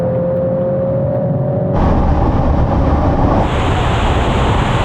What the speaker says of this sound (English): here comes a bloody Golf now! Wow, those gear changes